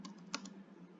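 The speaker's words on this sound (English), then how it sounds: "Let me type here." A computer keyboard is typed on quietly while entering data in a Microsoft Excel spreadsheet, a few soft, distinct key clicks spaced across a second.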